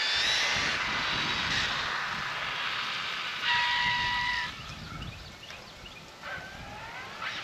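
An Arrma Infraction 6S RC car's electric motor whines steadily at close range, the tone rising and falling as it is warmed up on a street, with no one speaking.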